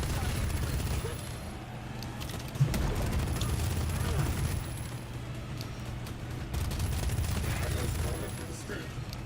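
Gunfire in the video game Pax Autocratica, a continuous dense rattle of shots and explosions with one sharper bang, with someone talking over it throughout.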